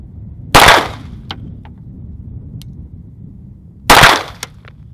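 Two sharp Glock 17 pistol shots fired outdoors in freezing conditions, the gun fitted with a red dot sight and a 20-round P-Mag; the loud cracks land about three seconds apart, each followed by a brief ringing tail over a steady low background rumble.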